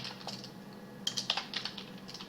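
A command being typed on a computer keyboard: a quiet, irregular run of close key clicks, a few sharper taps near the middle.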